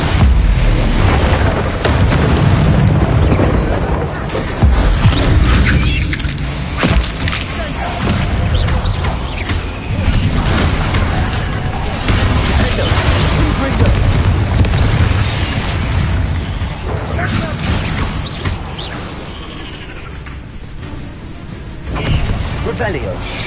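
Confringo blasting spells explode in the Hogwarts Legacy video game during a fight with spiders, producing repeated heavy booms and crashing thuds over a loud, busy battle din.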